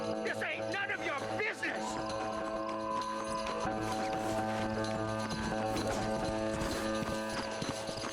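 A horse's hooves clip-clop in a steady trotting rhythm in the video game Red Dead Redemption, close and clear, with game dialogue and a neighing horse at the start.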